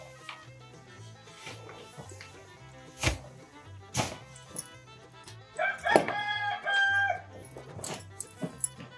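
Chickens in a barn, with a rooster crowing in a clear drawn-out call midway among scattered clucks and sharp knocks, moderately near, with a dog briefly in the mix.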